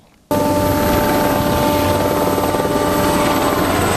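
A navy helicopter escorting a patrol ship into a naval base in Martinique, its rotor and engine a loud, steady, close droning roar that starts abruptly and continues without talk.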